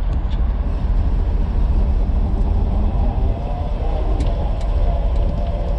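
A Springfield-built Rolls-Royce Phantom I motorcar driving at low speed, its steady low engine rumble and road noise running continuously and fairly close, with no voices over it.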